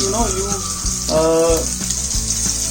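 Butter and oil sizzle steadily in a pan at close range, with a constant frying hiss, while a person speaks over it.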